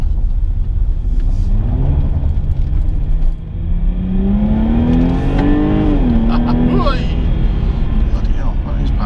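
A Jaguar XE S car's engine accelerating on dry, twisty Yorkshire Dales roads: a loud, steady, rising engine tone that climbs and holds near the listener, with a brief dip partway through and a voice occasionally speaking over it.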